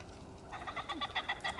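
Pheasants flush from cover during a hunt, a short burst of loud, close, rapid wingbeats and raspy cackling calls starting partway in.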